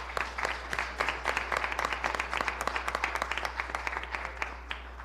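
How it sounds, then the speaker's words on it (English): Audience applause at a leadership challenge event, a dense, steady patter of many hands clapping together for several seconds, close and fairly loud, with no voices over it. "let's give one more round of applause to all of our participants."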